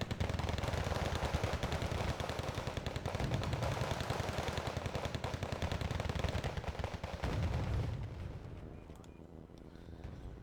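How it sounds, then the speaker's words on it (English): Dense gunfire trades back and forth in the strategy game Wargame Red Dragon, rapid machine-gun bursts rattling steadily for several seconds before easing and thinning toward the end. "they're just shooting back and forth, taking fire."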